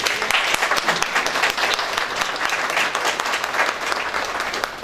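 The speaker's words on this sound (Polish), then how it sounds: "pozwolę sobie, żebyśmy tu wszyscy te brawa zabili tym, którzy na to zasługują" Audience at the invitation-only opening of the STELA gallery in Cieszyn bursts into sustained, loud, dense clapping that holds steady from start to finish, with a few faint voices mixed into the crowd.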